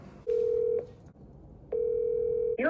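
House telephone dial tone: two steady, clear tones, each lasting about half a second, separated by a short gap, with a brief burst of another sound at the end.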